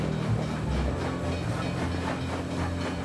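A train rolls along its rails in the World of Goo 2 video game, a steady low rumble with a faint rhythmic clatter and a soft hiss throughout, with no talk.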